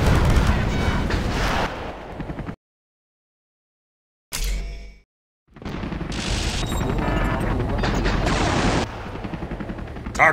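Self-propelled gun and missile fire in a war strategy video game: loud booms and crackling gunfire in bursts, broken by a sudden silence and a short blast, then heavy continuous firing again, with in-game voice lines over it.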